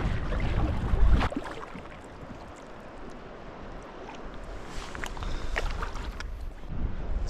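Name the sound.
kayak paddling through shallow water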